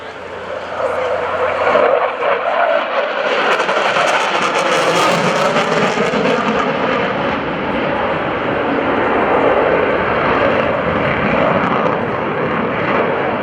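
An F/A-18F Super Hornet flying a carrier break at the NAS Oceana airshow, a loud, steady jet roar that swells and holds, with an announcer speaking over it.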